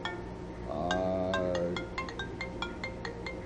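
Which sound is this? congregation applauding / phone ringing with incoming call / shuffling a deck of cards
phone ringing with incoming call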